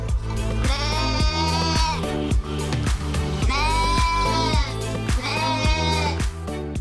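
Sheep bleat in loud, drawn-out wavering cries, three main calls about a second or more each, close and clear over a steady, rhythmic background without talk.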